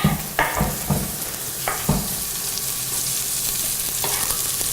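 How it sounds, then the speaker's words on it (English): Garlic sizzles and fries in a hot pan, a steady crackle broken by a few sharp stirring scrapes and clinks up close. "Shall I pop this garlic in the pan?"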